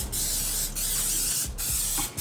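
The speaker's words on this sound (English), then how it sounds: "I'm gonna put a little cooking spray down here" Cooking spray hisses into a pan in several short bursts, a loud broadband spray sound with brief pauses between squirts, heard up close with no talking.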